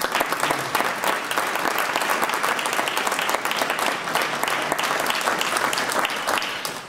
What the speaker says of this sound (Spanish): ruego este aplauso para el director y para toda la banda